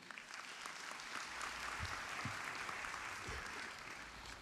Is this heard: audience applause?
yes